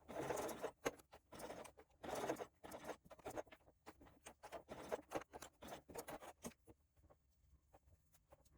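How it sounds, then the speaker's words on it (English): A sewing machine stitches around a connector piece on a small coin purse in quick bursts of rapid mechanical patter, pausing and restarting several times, close and fairly quiet. "So I'm going to sew around this at 1/8 of an inch."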